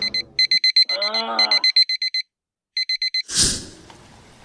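An alarm clock beeps in fast, loud, close repeated bursts, broken by a short pause, with a brief vocal groan in the middle and a rustling thump near the end.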